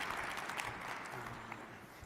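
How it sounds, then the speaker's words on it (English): Audience at a Washington policy and technology summit clapping, a fairly faint, broad wash of applause that fades slightly toward the end. "let's get some applause going"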